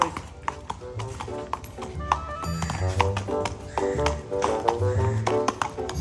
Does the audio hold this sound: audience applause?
no